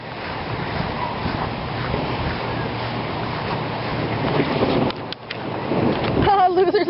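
Heavy rain pours steadily on a lake during a picnic outing, a dense continuous hiss with windy rumble, ending in a brief burst of nearby voices.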